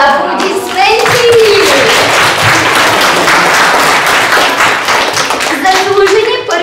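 Loud, close applause at a fourth-grade graduation celebration in a school, dense clapping sustained throughout with children's voices calling out over it at the start and end.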